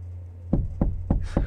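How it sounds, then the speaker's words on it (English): Four firm knocks on the locked back door of a pickup truck canopy, evenly spaced and close, landing over a low steady hum. "knocking on my truck"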